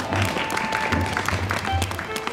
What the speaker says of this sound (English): They're cheering you for stopping me.